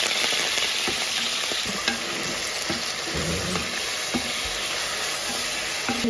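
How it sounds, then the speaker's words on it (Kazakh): Meat sizzles in well-heated oil in a frying pan while being fried for lagman, a continuous loud crackle and hiss with scattered pops and no talk. "етімізді осылай деп қуырамыз"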